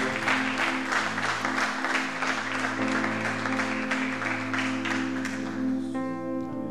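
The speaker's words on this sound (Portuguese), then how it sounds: "Você pode aplaudir Ele, que é digno de honra, de glória, de louvor." Church congregation applauding during a pastors' gathering: dense, loud clapping sustained throughout over held organ or keyboard chords, with the instrument continuing as the clapping thins near the end.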